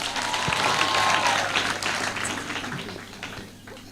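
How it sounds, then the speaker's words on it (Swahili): A crowd at a school prize-giving event in Kiharu, Kenya, bursts into applause, a dense continuous wash of clapping that swells and then gradually tapers over a few seconds. "Mpigeni makofi tafadhali."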